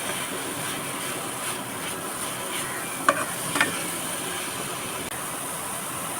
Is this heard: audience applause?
no